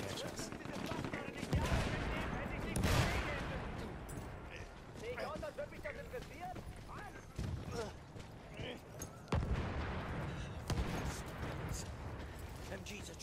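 Machine guns fire in a WWI video game in a long, chaotic stretch of rapid bursts and scattered booming shots at varying distances. Someone talks over much of the gunfire.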